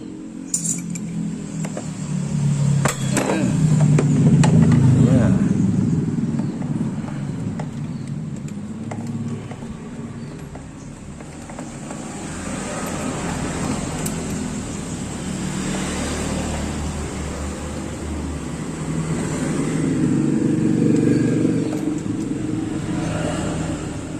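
A Honda Beat scooter with its spark plug removed is kick-started over and over, giving a soft, loose churning without firing, close up, with metallic clinks in the workshop and no talking.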